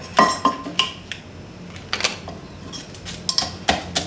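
Chili being pounded in a mortar, sharp irregular clacks and knocks in short bursts with brief pauses between, close and fairly crisp, no talking.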